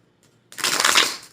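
A short, close burst of tarot cards being shuffled, a quick papery riffle after a moment of near silence.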